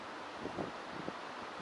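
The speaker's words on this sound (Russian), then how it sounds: "Ветер опять поменялся на северный, с северо-западного." Steady northerly wind blows across the microphone while lure fishing, a low continuous rumble with soft gusts, faint and without voices.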